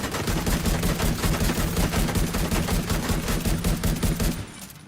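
Sustained rapid automatic gunfire in a video game, a dense, loud and continuous fusillade of overlapping shots that cuts off near the end.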